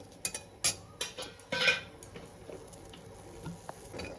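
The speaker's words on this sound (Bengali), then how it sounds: "এই যে এখন বাদাম ভাজতেছে।" Peanuts frying in a pan, with quiet scattered clicks, scrapes and a short sizzle burst as they are stirred, close by and faint, with soft clinks of a utensil against the pan.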